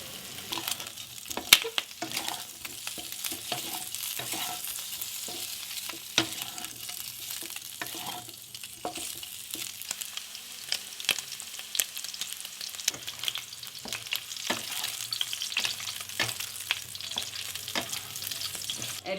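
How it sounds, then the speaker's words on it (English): Pork sizzling as it fries in a pan, with a steady crackling hiss broken by repeated scrapes and clinks of a utensil stirring the meat, close and moderately loud throughout. "Now open cook it and occasionally stir until the fat from the meat begins to release and turns light brown."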